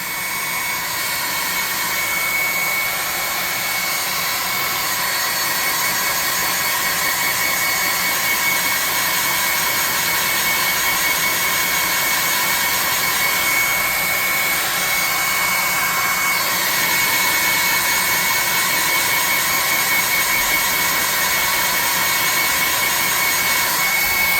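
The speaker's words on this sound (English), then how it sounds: "For those of you that are getting tired of the hairdryer" A hair dryer blows steadily and loudly the whole time, a constant whooshing roar with a high whine and no pauses.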